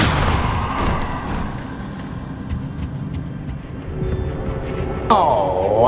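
A Confringo blasting spell explodes in the Hogwarts Legacy video game, a rumbling boom that decays at the start, followed by a sharp, bright whooshing burst near the end.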